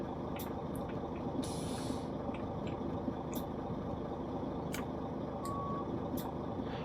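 A 1960s Mack R truck in a driving game sounds a series of evenly spaced reversing beeps over a steady diesel engine rumble.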